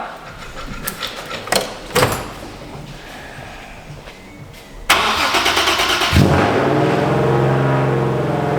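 A car engine cranks in several short tries, then catches, roars up in a loud rev and settles into a steady idle close by, with no voices.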